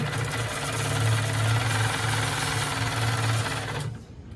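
A Handi Quilter longarm quilting machine stitches across the bottom edge of a tote bag, a steady fast mechanical hum and rapid needle chatter held close for about four seconds before cutting off.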